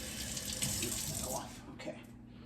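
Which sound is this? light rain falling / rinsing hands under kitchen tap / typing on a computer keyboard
rinsing hands under kitchen tap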